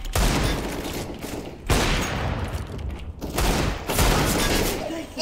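AK rifle gunfire in a video game rings out in several rapid bursts of shots separated by short gaps, loud and close, with players' voices mixed faintly in.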